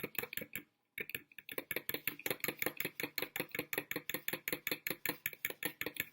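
A spoon or whisk mixes chocolate sauce in a bowl for vegan no-oil cupcakes, fast rhythmic scraping strokes repeating close and steady after a brief pause near the start.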